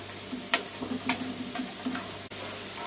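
Nettle köfte frying in a pan, a close, steady sizzle with a few soft scraping and tapping stirs over a faint low hum.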